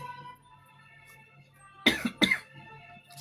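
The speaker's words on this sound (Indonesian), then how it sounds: "Sorry, batuk lagi nih." Two sharp coughs in quick succession from a single person, close and loud against a quiet room with a faint steady hum.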